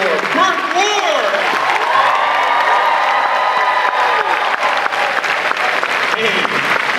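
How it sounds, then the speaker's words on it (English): Convention crowd at Orlando Megacon applauding and cheering for Burt Ward, loud and sustained, with whoops and voices mixed into the clapping throughout. "Make some applause for Burt Ward!"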